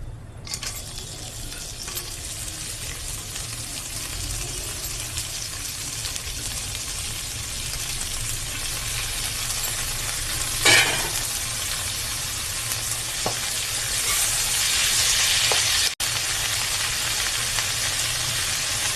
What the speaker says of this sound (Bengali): তেলটা গরম হয়ে গেছে, আমি এবার এই শাকটাকে ছেড়ে দিচ্ছি